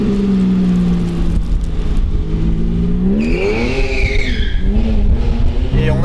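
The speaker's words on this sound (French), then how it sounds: "on a une sonorité qui est bien présente, qui est bien reconnaissable Porsche, du début jusqu'à la fin de la zone rouge" Porsche 718 GT4 with an Akrapovic exhaust on a race track, the engine note holding steady, then rising sharply as it revs hard, loud and close, with a brief tire squeal.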